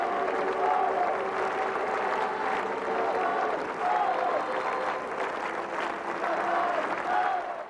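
Sustained crowd applause for Pope John Paul II fills the space, a dense, steady roar of many hands clapping with faint voices mixed in, holding at a constant level throughout.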